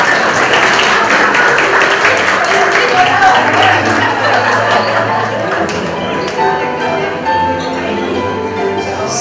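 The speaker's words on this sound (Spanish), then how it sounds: "Fuerte el aplauso para él." Audience applause at a ceremony, a dense steady patter of clapping hands sustained throughout with some scattered taps and background murmur.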